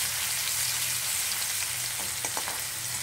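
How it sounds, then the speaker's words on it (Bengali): Garlic sizzles in hot oil in a wok for a Bengali-style pomfret curry, a steady bright frying hiss with a few soft utensil scrapes near the end as it is stirred. "রসুনটা একটু নেড়ে চেড়ে"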